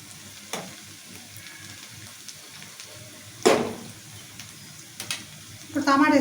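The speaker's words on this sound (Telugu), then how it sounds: "ఉల్లిగడ్డ మంచిగా ఇలా వేసుకోవాలి నూనెలో" Onions fry in oil in a pan for a cauliflower curry, giving a low steady sizzle with a few sharp clatters and a louder burst near the end, and someone speaks briefly.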